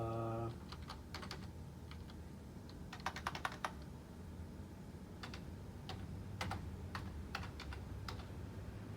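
Several people type on computer keyboards during an online class roll call, with scattered clusters of fast, light key clicks over a steady background hiss and a brief tone at the start.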